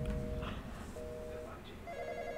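A telephone rings in a house in short repeating electronic bursts, heard at moderate distance beneath hushed, tense talking voices.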